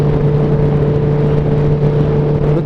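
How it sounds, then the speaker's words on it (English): A motorcycle nicknamed Bertha with a loud straight-through exhaust and a chute-like muffler runs steadily, its engine note holding a strong, constant drone with no talking. "This is basically a straight through exhaust system on this bike."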